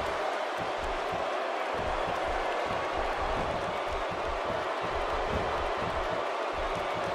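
Dense, continuous roar of an arena crowd cheering in the WWE 2K16 wrestling video game, loud and unbroken for the whole stretch with no commentary over it.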